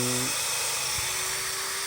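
A small drill bores into the root of an ailing tree, giving a steady high-pitched whine that holds close and loud throughout.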